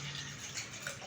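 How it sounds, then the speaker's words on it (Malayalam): Tamarind water poured into a pot of cooked beetroot rasam, a soft, steady liquid trickle and splash lasting about a second, faint and close with no talk. "പിന്നെ നമുക്ക് ഇതിലേക്ക് പുളിവെള്ളം ഒഴിക്കാം"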